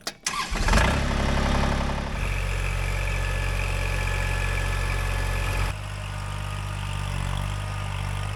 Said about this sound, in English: I've equipped my tractor here with a stump bucket.